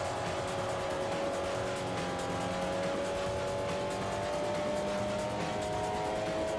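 A race car's engine over-revs steadily in Forza Motorsport 4, holding a high, strained whine with light tire noise, loud and continuous with no pauses.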